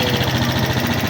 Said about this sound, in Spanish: Le damos arranque y ya enciende de una vez